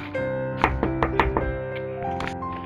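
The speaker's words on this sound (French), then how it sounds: "Soudain, quelqu'un frappa à la porte." Several sharp knocks on a wooden door come in an uneven cluster, landing clearly over steady background music.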